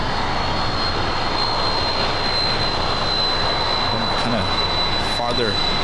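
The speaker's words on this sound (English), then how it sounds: "Cargo jet 767 now crossing over." Boeing 767 cargo jet crossing over at LAX, giving a loud, continuous jet engine roar with a thin high whine running steadily throughout.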